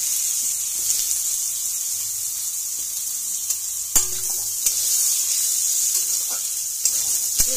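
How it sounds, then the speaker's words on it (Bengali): Eggplant and potato pieces frying in oil with black cumin for a tangra fish curry, a close, constant bright sizzle punctuated by several sharp clicks of a utensil against the pan. "আলু আর বেগুনটা আমি প্রথমে একটু ভাজা ভাজা করে নেব"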